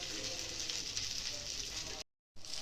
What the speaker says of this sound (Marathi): आता आपण दुसरं थापून घेतलं थालीपीठ ते पण आहे ना तव्यावर टाकून घेऊ.